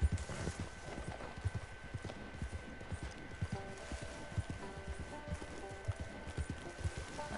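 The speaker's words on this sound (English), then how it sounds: "Horse." Hooves of a struggling horse clip-clop in a steady, uneven patter of close, moderately loud steps, with faint tonal hum in the background and no talking.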